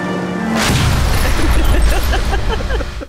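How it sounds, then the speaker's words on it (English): A car slams into gas tanks in the L.A. Noire video game, setting off a loud booming explosion that rolls on with crackling fire and scattering debris. "Those gas tanks did not appear until I hit them."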